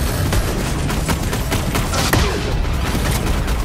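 Dense, loud gunfire from Borderlands 3, a continuous barrage of overlapping shots and impacts with occasional heavier bursts, close and unrelenting across the whole stretch.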